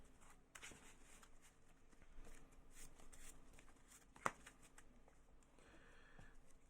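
Yu-Gi-Oh! cards being shuffled by hand, faint soft riffling and patting at close range with a sharp click partway through, otherwise quiet.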